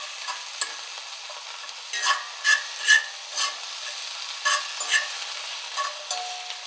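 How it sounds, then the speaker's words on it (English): A fork stirs plant-based food around a sizzling pan, giving a series of distinct scraping strokes at an uneven rhythm over a soft frying hiss, close and fairly loud. "I'm gonna grab my fork. And what you want to do now is just stir this stuff around."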